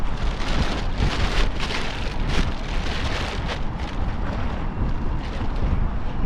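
Rain falls at sea during a windy fishing trip, a dense, close hiss of drops striking the surface that pulses in brief louder gusts, with no voices.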